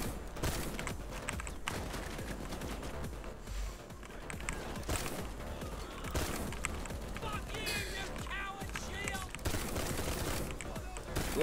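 Near-continuous bursts of full-auto shotgun fire crackle through a video game match, loud rapid blasts stacking into a dense roar with brief lulls between volleys.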